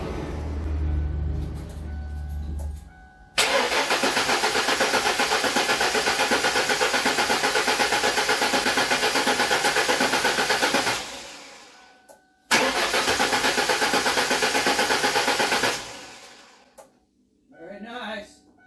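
A 1996 Ford Mustang, freshly fitted with a replacement engine, cranks and then catches into a loud, steady roar close by, cuts off briefly, and runs again before dying away, with a voice heard near the start and end.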